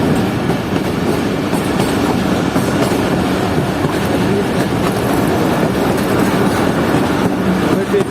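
Pakistan Railways Jaffer Express train running, a loud continuous rumble of wheels and carriages with rattling and clattering throughout, heard from on board.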